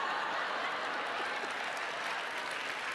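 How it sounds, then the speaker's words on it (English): A studio audience at an interview event breaks into applause, a dense, steady wash of clapping heard at a moderate distance, with faint chuckles mixed in. "they're already applauding at taking the earrings off"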